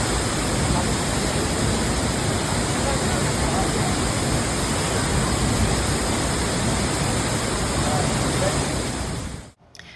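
A waterfall in Iceland pours in a loud, constant rush of white noise that stays steady until it cuts off suddenly near the end.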